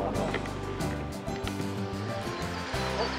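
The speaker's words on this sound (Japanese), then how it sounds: "エンジンがなんか違う音してるかな" A Toyota Land Cruiser 40 engine running at a Land Cruiser 40 owners' meeting, a loud low rumbling drone with shifting tonal harmonics as revs change, with a voice speaking over it.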